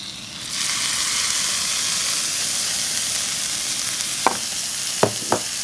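Loud, steady sizzling hiss as quail pieces drop into hot masala and fry, with a few sharp scraping stirs near the end, alone with no talking.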